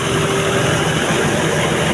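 A heavy rice mill engine runs loudly and steadily nearby, a continuous droning rumble with a mechanical whine, no voices.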